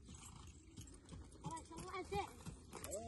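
Horse hooves clip-clopping at a steady walking rhythm from nearby, mixed with people talking over the hoofbeats.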